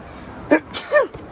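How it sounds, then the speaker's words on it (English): A single sharp sneeze bursts out close by during a Jeep winch installation, a quick gasping intake followed by an explosive release. "You sneeze when you look up."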